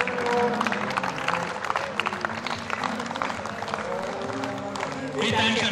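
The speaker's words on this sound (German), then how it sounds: "Gebt Ihnen einen kräftigen Applaus." Applause from a crowd at a cattle show in Balm, 2018, mixed with a steady hubbub of voices and show noise, fairly loud and continuous throughout, getting a little louder toward the end.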